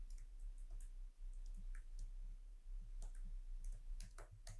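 Light, scattered clicking of computer keyboard keys, faint and close, in irregular short clusters over a low steady hum, with no voices.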